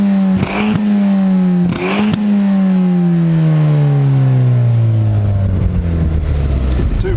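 A Ford Fiesta ST fitted with a 2.2 turbo diesel engine revs up close by in two quick blips, then settles into a steady, slowly falling engine drone with no voices.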